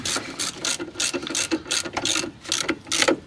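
A ratchet wrench rapidly clicks while tightening bolts, about a dozen quick, close, rhythmic ratcheting strokes with no talking.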